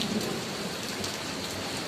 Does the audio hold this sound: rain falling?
yes